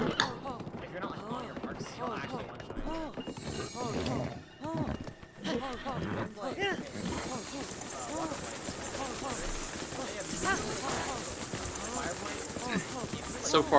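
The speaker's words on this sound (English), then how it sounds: "Yo, is this horse gonna run right at me?" Rhythmic clip-clop of a horse galloping in The Legend of Zelda: Breath of the Wild, steady hoofbeats throughout with a brief dip midway, under frequent talking and game sounds.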